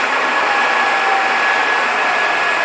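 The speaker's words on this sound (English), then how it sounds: "we have two options, counterclockwise or clockwise rotation of the spindle" A SIRCO 40 x 85 inch manual lathe with its spindle running clockwise makes a loud, steady mechanical whine and hum with a sustained tonal note, constant and unbroken, with no voices.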